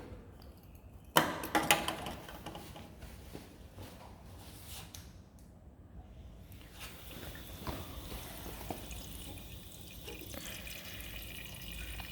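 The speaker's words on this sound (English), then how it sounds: "before you use this machine, you need to add water in the water tank" Water pours into the water tank of a laser machine, a faint, steady trickling and splashing with a brief louder gush early on, heard close in a quiet room.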